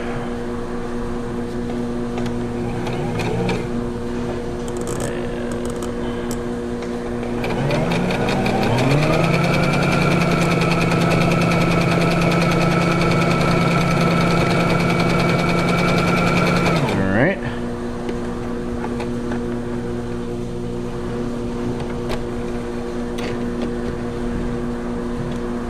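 A Brother XL3750 sewing machine runs a straight stitch test after reassembly, whirring up to a steady, loud mechanical drone for about ten seconds before stopping, amid a constant background hum.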